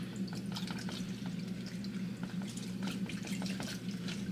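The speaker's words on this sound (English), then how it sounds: "Swishy swish. Contaminate that paint thinner right off the bat." A paint brush swished clean in paint thinner makes a continuous watery sloshing and splashing, steady and close for a few seconds with no talking.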